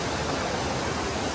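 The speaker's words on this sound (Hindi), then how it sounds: "पानी का आवाज आ रहा ना" Loud, steady rushing water fills the air at Water World Ocean Park, a dense continuous roar like a waterfall or large stream, close and unbroken with no talk.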